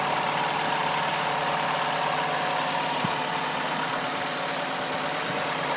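Car engine idling at a raised, racing speed with its idle control valve disconnected, a steady even hum held at a constant level throughout with no talk.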